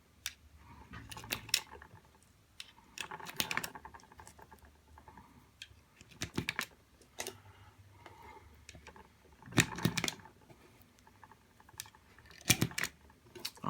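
Rounds being pressed one by one into a Glock G17 magazine fitted with a Taran Tactical base pad, giving faint, close, irregular clicks and metallic snaps with quiet handling noise between them.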